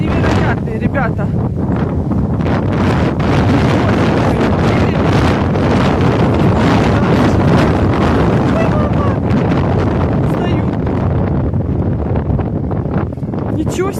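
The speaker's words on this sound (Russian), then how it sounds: "Ветер невероятный, ребята." Strong gusty wind in Poland buffeting the microphone outdoors, loud roaring rushes that swell and ebb continuously, while someone talks over it.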